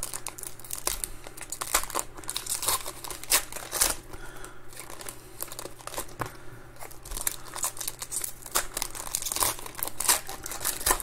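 Sealed foil packs of 2021 Topps Heritage Minor League baseball cards being torn open and handled, a close, busy stream of crinkling and crunching foil with sharp rips throughout, no speech.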